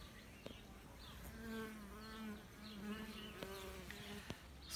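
Honeybees buzz faintly at a hive entrance narrowed with propolis. Several overlapping wingbeat hums rise and fade, with brief sharp ticks in between and no voices.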